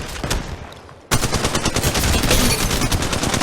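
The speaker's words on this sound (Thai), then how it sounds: "ฉันถูกพบแล้วกำลังโดนยิง กำลังรักษาบาดแผลอยู่ กำลังยิงแล้วกำลังโดนยิงกำลังรีโหลด" Gunfire in the mobile shooter Apex Legends Mobile: after a quieter lead-in, a sudden loud burst of rapid automatic shots rattles on continuously, close and dense, with no voices.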